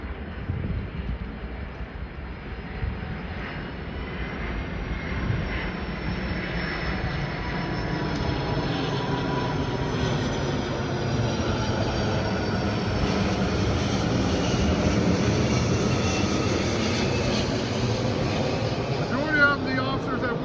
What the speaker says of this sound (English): Let this plane go by real quick.